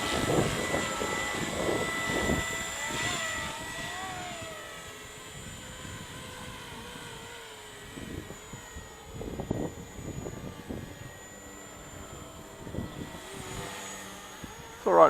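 Ken Luo 230S radio-controlled helicopter in flight with a bigger tail blade, a steady whizzing rotor and motor drone at moderate distance, swelling and fading with a few gusty bursts, mostly alone.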